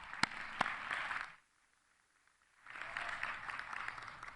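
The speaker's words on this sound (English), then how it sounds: "Can we please have one more round of applause to celebrate all of our educators?" An audience applauds educators at an education awards ceremony, steady mid-level clapping that stops briefly and then resumes, with a couple of sharp close claps near the start.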